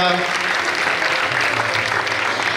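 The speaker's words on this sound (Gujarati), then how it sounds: "મિત્રો જોરદાર તાળીઓથી વધાવીએ" Steady applause from a crowd at a community student awards ceremony fills the whole stretch, dense and continuous, with a faint murmur of voices mixed underneath.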